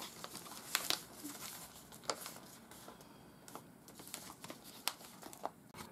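Cardboard from cat boxes is folded and creased by hand, making quiet crinkles and scattered sharp crackles and snaps, close but faint, with no voices.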